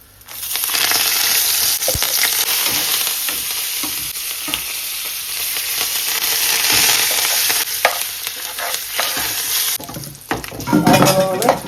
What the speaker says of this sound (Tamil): கருவேப்பிலையும் மிளகாயும் கொஞ்சம் பொரிஞ்சு வேற மிளகாய் எடுத்துட்டோம்.